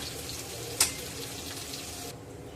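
Pink perch fish fry on a hot tawa with a steady, even sizzle and one brief sharp spatter, then the hiss drops in the last moments.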